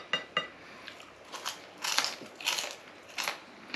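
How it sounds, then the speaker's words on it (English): Crunchy thin fries, served with a venison burger on an English muffin, are bitten and chewed, giving a series of crisp, close crunching bursts with short pauses between them. "Try some of the chips. Yeah, how crunchy they are."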